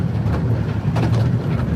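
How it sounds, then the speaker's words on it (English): A train runs along the Romney Hythe and Dymchurch Railway, a continuous low rumble with faint clattering and some wind buffeting, heard from on board with no talking. "A train. Of course I'm on a train."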